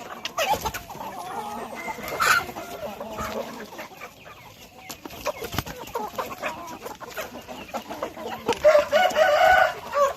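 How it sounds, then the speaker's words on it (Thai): Caged chickens on a farm cluck steadily close by while a rooster crows, with bursts of hen calls rising toward the end and no talk over them. "นี่ก็เป็นไก่นมที่ขังไว้เนาะ"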